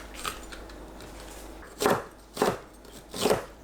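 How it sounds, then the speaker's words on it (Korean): A knife slices seeded red and yellow paprika into thin strips on a cutting board, with one faint cut followed by three distinct, evenly spaced chopping strokes up close. "파프리카를 씨 빼고 채 썰어주세요."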